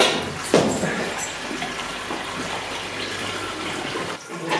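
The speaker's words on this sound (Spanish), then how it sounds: "después tiramos el agua para lavar el grano" Water is poured over malted grain to rinse it during the brewing of a smoked beer, a steady rushing splash that runs continuously with a sharper gush at the start.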